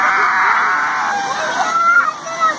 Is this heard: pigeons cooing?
no